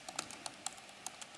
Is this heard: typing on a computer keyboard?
yes